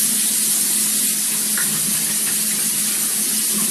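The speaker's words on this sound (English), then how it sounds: "I'm going to go ahead and wash my hands with soap and water now" A kitchen tap runs steadily for handwashing with soap, a constant hissing splash of water into a sink, close and even throughout with no talk.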